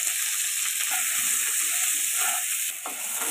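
Pointed gourd pieces frying in a little oil with salt and turmeric give a steady close sizzle throughout, with faint stirring clicks and no talking.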